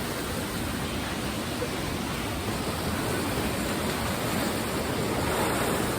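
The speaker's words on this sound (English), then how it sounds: "Wow, the waves are really high today, crashing against the" High waves crash against a beachfront wall in Bali, a steady, loud wash of surf noise that continues throughout without pause.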